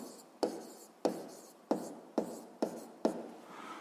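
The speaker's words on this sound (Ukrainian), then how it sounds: "Отже, пишемо" A pen or pencil scratches across paper during a school physics exercise, moving in six distinct strokes or short bursts spaced about half a second apart, close and fairly clear with no talking.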